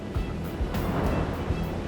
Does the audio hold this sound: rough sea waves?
yes